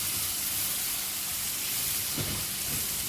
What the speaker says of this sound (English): I'll cook onion for 2 minutes only on the reduced fire